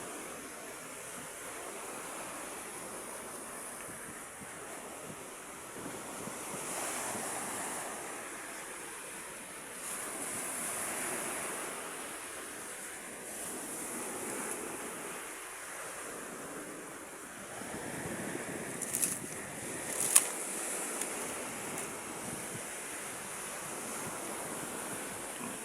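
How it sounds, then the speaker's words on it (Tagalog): Sea waves wash steadily onto a nearby shore in the open air, a continuous broadband surf roar with gentle swells and some wind buffeting, plus a couple of brief sharp knocks near the end. "Dagat."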